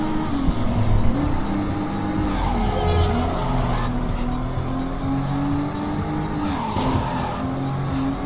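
A Sport Hobby car races in the video game Midnight Club 2, with a steady, loud engine drone and recurring tire skids and squeals over the full stretch of driving.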